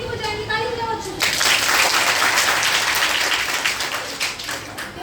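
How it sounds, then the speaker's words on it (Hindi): A schoolroom of children bursts into dense, loud clapping that starts abruptly after a brief spoken line and carries on steadily to the end, rough and uneven at a mobile-addiction session. "ताली बजाओ बच्चों।"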